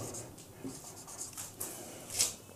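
Chalk or marker writing on a classroom board during a science lesson on hydrogen isotopes, with short scratchy strokes and taps in bursts over a faint room hum.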